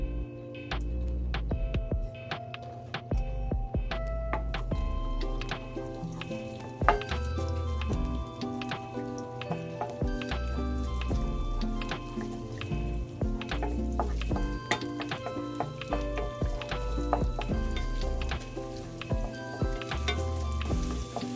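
Ginger fries in hot oil in a pan for adobong pusit, a continuous close crackling sizzle with frequent sharp spits and pops and occasional stirring clatter, no talking.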